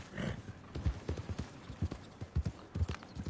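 Horse hooves clip-clop in a steady galloping rhythm while riding in the video game Red Dead Redemption II, close and fairly loud, with a faint snort or whinny near the start.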